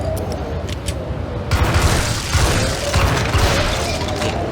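Gunfire in the Max Payne video game, loud dense bursts and booming shots crashing over a rumbling din, with no talk.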